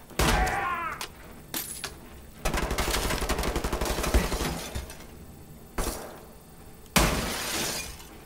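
Gunfire bursts in the video game Wolfenstein The New Order: a sustained rapid volley of shots from about 2.5 to 5 seconds, with earlier and later single sharp cracks and a glassy shatter near the start, loud and close.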